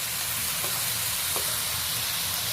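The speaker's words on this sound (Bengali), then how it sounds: "মশলার সাথে বেশ ভালো করে কষিয়ে নিচ্ছি।" Fried cauliflower and potatoes sauté in spice paste, giving a loud continuous frying hiss with a couple of faint stirring scrapes, and no voices.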